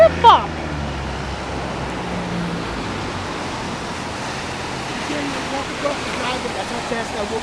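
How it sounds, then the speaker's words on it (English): Fast-moving floodwater rushes steadily as a broad, loud wash through a street during flooding, with shouting voices near the start and people talking over it. "That's how fast that water's flowing."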